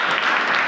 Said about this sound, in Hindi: इस लाइन में ताली बजाइए।